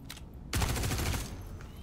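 Rapid bursts of gunfire from a Drake Corsair ship in the video game Star Citizen, a dense fusillade erupting after a quiet half-second and rattling on loudly, alone without talk.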